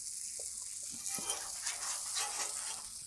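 Kielbasa sausage sizzling on a flat griddle beside butter-coated pierogies, a soft continuous hiss with faint scattered taps and crackles, fairly quiet and without talk.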